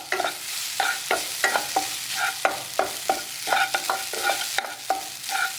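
Grated coconut stirred in a pan for aval laddu, giving repeated scraping strokes in a steady rhythm with a light sizzle beneath, close and moderately loud, with no talking.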